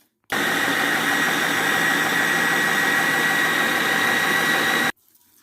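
A mixer grinder blending a toor dal mixture runs loud and steady for about four and a half seconds, a continuous whirring motor drone that starts and stops abruptly, with no talking.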